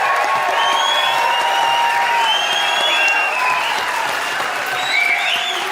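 A rowdy live audience at the Haskell Opera House in Stanstead, Quebec, on the Canada-U.S. border, claps and cheers steadily throughout, a dense, loud wash of applause with scattered whoops.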